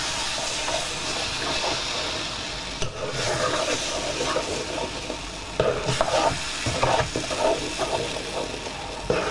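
Toasted flour being stirred with water in a pan for gachas manchegas, a steady scraping and stirring throughout with soft sizzling, fairly close, no talking.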